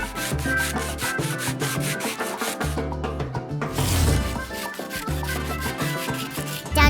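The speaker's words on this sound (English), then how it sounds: "And the last preparation step is sanding." Repeated rhythmic rubbing strokes of sandpaper scraping the surface of a Crocs shoe, close and clear, with a short pause midway before the strokes resume.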